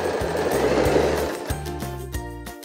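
Sewing machine running a wide zigzag stitch along the edge of fabric for a women's bomber jacket, a loud rhythmic mechanical whir in several short bursts with brief pauses between runs.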